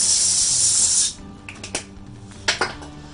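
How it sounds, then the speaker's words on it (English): Cooking spray hisses in one steady second-long burst onto a baking pan for keto bagels, followed by a few light clanks and taps of the pan. "So we're going to spray our pan."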